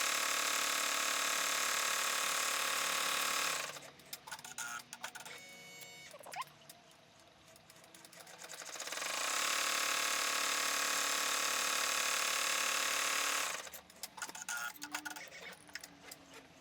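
An embroidery machine tacks down a zipper and square outline on an in-the-hoop zipper bag, humming in two long steady stitching runs separated by a quieter pause with light clicking.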